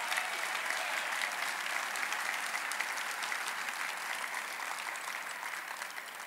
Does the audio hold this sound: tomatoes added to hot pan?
no